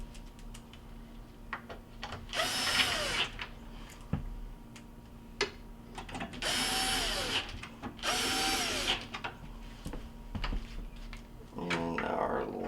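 A power drill drives mounting bolts into the control panel of a GE built-in cooktop in three short whirring bursts, each rising and falling in pitch, with quiet clicks and handling noises between.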